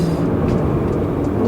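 A BMW 330i F30 with the B4 engine and a Bootmod3 stage 1 flash tune gives a loud, steady engine drone while driving, a dense low rumble with no breaks.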